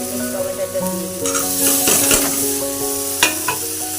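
Chopped onion, ginger and cumin paste, green chili and tomato sizzle in hot oil in a pan, with steady frying crackle and a few stirring scrapes and utensil clinks close by.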